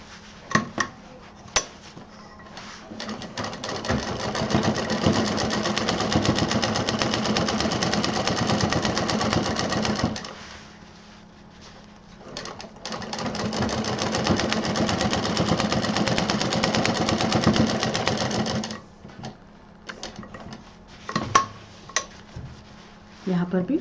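A sewing machine stitches cloth in two long continuous runs separated by a short pause, with a steady close motor whir, a few clicks and handling noises around the stitching bursts.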